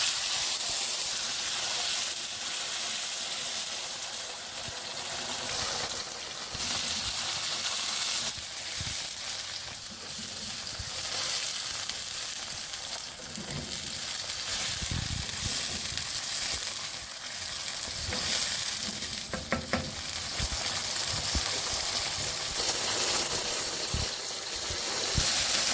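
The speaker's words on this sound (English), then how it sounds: "Now it is time to add chopped tomatoes." Chopped tomatoes sizzle in a frying pan for chicken curry, a steady loud hiss of frying with occasional stirring clatter, unbroken throughout and with no talking.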